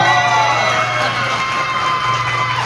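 A crowd of people at a Manila district gathering cheers and claps, a loud, continuous roar of shouts and whoops with clapping mixed in and a steady hum beneath, sustained throughout.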